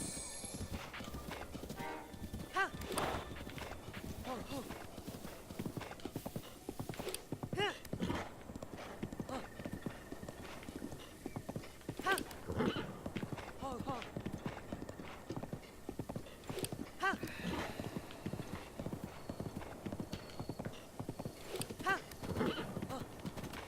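Horse hooves clip-clop steadily in The Legend of Zelda: Breath of the Wild, a continuous close trotting rhythm with occasional whinnies over ambient game sound and background music.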